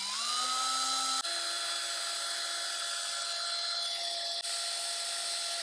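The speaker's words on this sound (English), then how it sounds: "I sometimes use my drill like a mini lathe to clean cylindrical parts that I can fit in the chuck" A power drill spins a cylindrical power steering pump part in its chuck like a mini lathe, a steady high whine that briefly steps in pitch and holds loud and close throughout.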